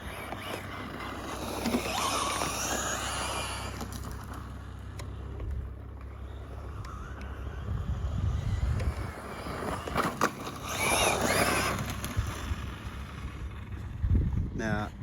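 Arrma Fury 223s two-wheel drive RC car driving outdoors, a buzzing electric motor that surges and fades as it accelerates, wheelies and lets off, with heavy wind buffeting across the microphone throughout.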